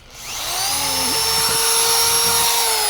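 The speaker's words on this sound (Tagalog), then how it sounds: "Subukan natin yung barena." An electric drill spins up and runs steadily with a loud, high motor whine close by, holding its pitch after a quick ramp-up, at a campsite.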